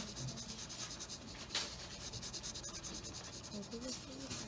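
A pencil shades in the dark side of a drawn cube with continuous rapid back-and-forth scratching strokes on paper, close and fairly soft, with no talking.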